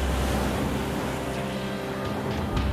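Freezing wind and ocean waves at sea, a dense, steady roar of rushing air and churning water, loud and unbroken with low rumbling beneath and a few brief surges near the end.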